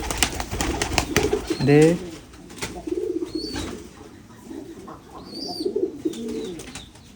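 White pigeons coo softly nearby in a series of low, throaty calls, with scattered chirps and rustling around them while a person speaks.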